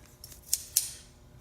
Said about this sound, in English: Mini aviation snips.